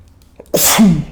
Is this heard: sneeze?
yes